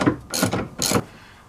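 Ratchet loosening a 19mm bolt on a RZR 800: two quick bursts of close, rapid clicking from the pawl, with a short gap between them, then quiet.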